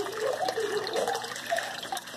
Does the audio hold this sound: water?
yes